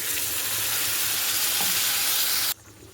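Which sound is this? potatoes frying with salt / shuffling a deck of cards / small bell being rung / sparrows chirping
potatoes frying with salt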